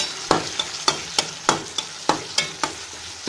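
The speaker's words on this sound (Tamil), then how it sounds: "அது எல்லாத்தையும் இதில் போட்டோம் போட்டுட்டு நல்லா வதக்கி விடுங்க" Brinjal sautéing with turmeric in a sizzling pan, repeated scraping and stirring strokes, about ten sharp hits at a steady rhythm over a soft frying hiss.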